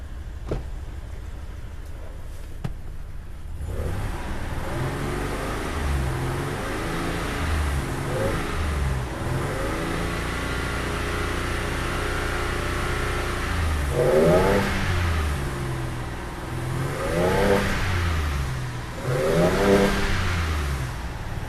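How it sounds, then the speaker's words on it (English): Hyundai Terracan with a misfire, idling while warming up and then revved repeatedly, engine note climbing and falling in several short surges over a steady idle rumble, close and loud with no talking. "I can see tiny bit of smoke as I'm revving from the tailpipe."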